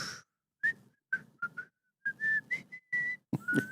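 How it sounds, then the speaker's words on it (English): A person whistles a halting tune in short separate notes, a few held longer, clear and close with gaps of silence between. "I'm getting better at whistling."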